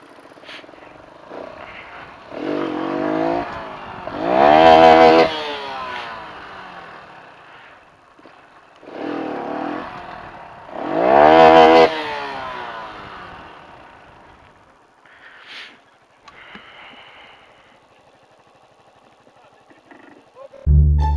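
A motorcycle engine revs hard in repeated surging bursts as the rider pulls a wheelie, rising and falling several times, with excited shouting around it.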